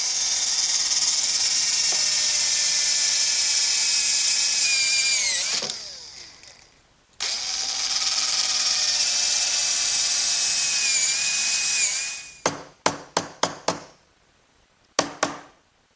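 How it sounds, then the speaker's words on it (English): Power drill spinning a brad point bit into wood on a workbench, two long high-pitched whirring runs followed by a series of short bursts, close and loud with no talking. "I'll do that by using a brad point bit and a chisel to remove"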